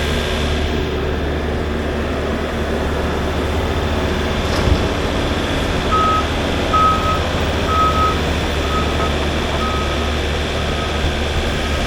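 A truck pulling up during loading work with a John Deere 332G and a Bobcat, its reversing alarm giving a steady series of evenly spaced beeps over a loud continuous engine rumble, with no talking.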